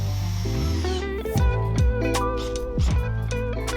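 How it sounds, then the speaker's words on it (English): A cordless drill whines up and spins in repeated short bursts, its pitch rising and falling as screws are driven in close by while building a covered porch. "have an extender on hand for your drill so that you can have an easier time running in the screws"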